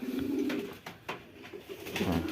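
Soft, repeated cooing of pigeons nearby, low throaty calls rising and falling in a few bursts with brief pauses.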